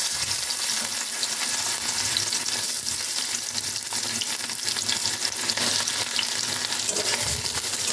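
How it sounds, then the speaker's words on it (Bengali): Chopped onion frying in oil for a mixed bharta makes a loud, constant, close sizzle with a crackling texture that holds evenly throughout, with no talking. "এবার আমি এর মধ্যে পেঁয়াজ কুচি দিয়ে দেবো।"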